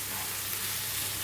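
Beef stir-fry with scallions and sesame seeds sizzling in a hot pan, a dense, steady frying hiss close by with no pauses.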